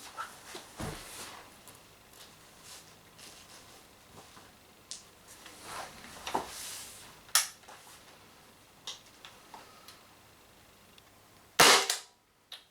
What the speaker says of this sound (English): At least I get a lot of shots from the CO2